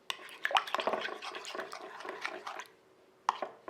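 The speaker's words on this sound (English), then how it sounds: "Give that a mix until everything is incorporated." Sourdough discard batter of melted butter, eggs and discard being stirred in a bowl, wet sloshing and scraping strokes in quick irregular bursts, close and fairly soft, pausing briefly before a few final stirs.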